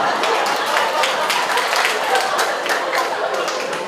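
An audience claps in steady, sustained applause filling the room, a dense even patter of many hands throughout.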